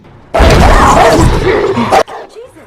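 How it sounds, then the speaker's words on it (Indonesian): A single loud, harsh dog bark lasting over a second breaks a quiet background, followed by fainter rustling. "ada seekor guguk yang mengguguki mobil mereka"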